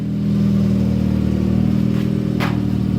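A race car with a three-link rear suspension brakes hard on a driveway, its engine holding a steady mid-pitched drone with brief bursts of clatter and tire scrub near the end, loud and close.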